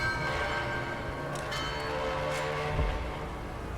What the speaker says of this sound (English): Third bell.